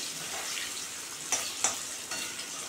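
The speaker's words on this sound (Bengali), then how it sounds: "তো বন্ধুরা, পনিরগুলো ভাজা হবে।" Paneer cubes frying in a pan give a steady, soft sizzle with a few sharper pops and crackles, heard alone at close range.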